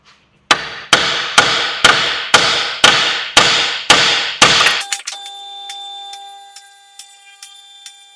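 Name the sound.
hammer striking a VW Transporter strut to free it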